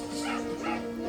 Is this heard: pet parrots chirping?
no